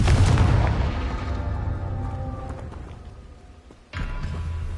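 Blasting-spell explosion in a PS4 video game: a loud, booming blast at the start whose rumble decays over a few seconds, followed by a second sharp burst near the end, with no talk.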